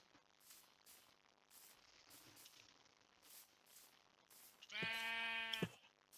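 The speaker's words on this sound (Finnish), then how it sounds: "Miten kaikki määkii mulle?" Sheep in the Minecraft video game bleat in short repeated calls, followed by one louder, closer drawn-out bleat near the end, all over a faint background hiss.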